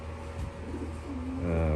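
Pigeons coo in a loft's young bird section, several soft, throaty, rolling calls overlapping close by against a low background hum.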